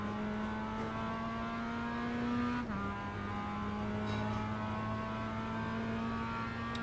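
Mazda MX-5 race car engine in the iRacing sim at Navarra Speed Circuit, holding a steady, loud, buzzing drone near full throttle with one brief dip midway, like a quick shift or lift, and no voices.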